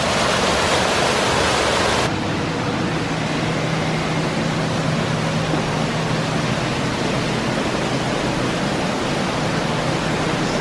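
Loud, steady rushing water roars past a mill close by without pause on the Roaring Fork Motor Nature Trail, Great Smoky Mountains, a dense broadband hiss that eases slightly in tone partway through.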